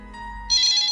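A telephone ringtone in a Gujarati stage play sounds alone, a steady electronic tone that swells louder and brighter halfway through, close and clear with no talking.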